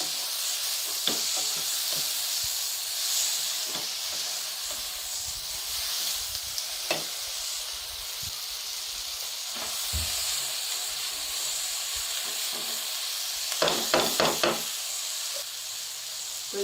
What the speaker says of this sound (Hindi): तो ये अब अच्छे से फ्राई हो गए हैं।